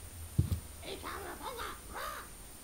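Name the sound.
parrot squawking in the video game Deponia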